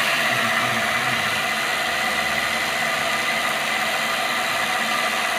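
A homemade motor generator's shaft spins up with a steady, loud, continuous whir and broadband mechanical hum that holds evenly throughout, with no talking over it.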